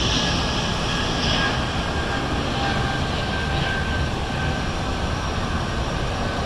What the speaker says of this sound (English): We're about to see a takeoff from SWISS Airlines.